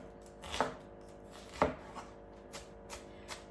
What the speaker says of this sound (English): I'm chopping the onions even smaller because I don't want big bites of onion in this.